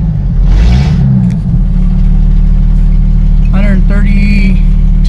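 A 1996 Jeep Cherokee XJ idles with no exhaust system, a loud, steady, deep engine drone throughout, with brief chirps and squeals over it.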